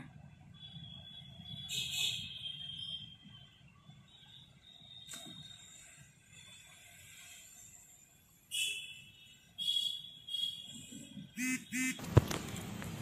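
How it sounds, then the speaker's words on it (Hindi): Ducks at a large village pond in Jind, India, give faint intermittent honking quacks from a distance over a low outdoor hum, with a few louder calls and bumps near the end. "देखो बेबे बत्तख घूमन लग रही है"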